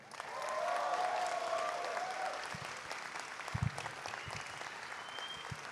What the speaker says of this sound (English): we can give a big, great round of applause